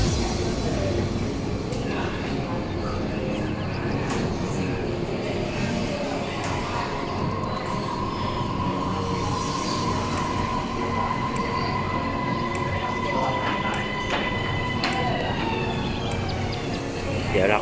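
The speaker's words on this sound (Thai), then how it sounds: "รถไฟฟ้ากำลังเข้าสู่ชันชลาแล้วครับ" A Bangkok MRT Yellow Line electric train pulls into a station platform with a long rising electric whine and rolling rumble. Tonal hums and chimes sound over the noise, and someone speaks briefly nearby.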